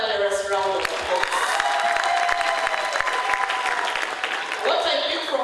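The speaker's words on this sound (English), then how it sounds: "he deserves another thunderous round of applause" Thunderous applause fills a hall at a university graduation ceremony, steady and sustained, with cheering and a voice speaking over the clapping.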